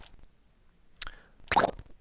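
A cartoon character's squish sound effect in a hand-drawn animatic, heard as two short wet plops, a lighter one and then a louder, fuller splat near the end, with no talking.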